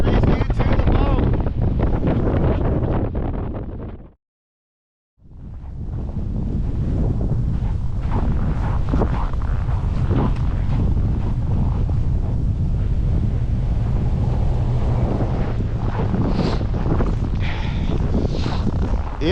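Strong, roaring wind from Winter Storm Elliott buffets the microphone on a main street, loud and continuous apart from a second-long gap.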